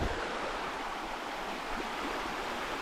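Water of a trout stream rushes and gurgles steadily, a dense broadband wash close by with no pauses.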